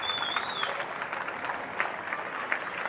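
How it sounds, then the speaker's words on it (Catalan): Spectators at a Mallorca spicy-pepper eating championship applaud the contestants, with continuous moderate clapping and a few sharper claps standing out. "això mereix un fort aplaudiment per a vosaltres mateixos"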